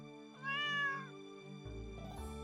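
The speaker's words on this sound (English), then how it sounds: "I do see that cat. I hear that cat as well." A cat meows in the farming video game Stardew Valley: one clear, drawn-out rising-and-falling meow over a steady, tonal game music bed, the music shifting lower just after.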